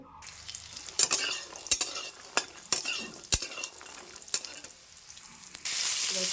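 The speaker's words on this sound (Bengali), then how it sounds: "বড়িগুলো ভেজে নিচ্ছি" Bengali lentil dumplings (bori) frying in hot oil in a pan, a steady sizzle broken by sharp clinks and scrapes of a spatula stirring, with the frying growing louder and fuller near the end; no one speaks.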